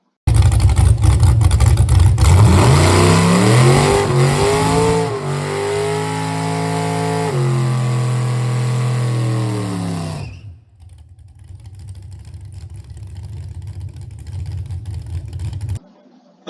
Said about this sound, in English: this is the second burnout